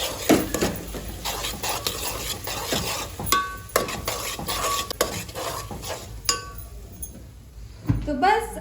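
Carrot halwa with cardamom and dry fruits being stirred in a metal pan, with repeated scraping strokes and clinks of a spoon against the pan over a faint sizzle, close and moderately loud, while a voice talks through much of it.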